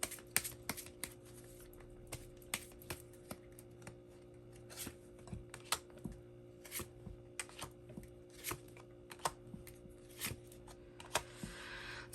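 Tarot cards are shuffled and drawn by hand, giving light, crisp taps and flicks in an irregular run, close and quiet, with a faint steady hum beneath.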